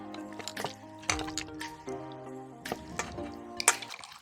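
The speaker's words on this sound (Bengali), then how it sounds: "এখন আমি মাংসটাকে মাখাচ্ছি।" Mutton for a Bengali garlic curry being mixed and kneaded by hand with turmeric and spices, giving close wet squelches and slaps in an irregular rhythm, with no voices.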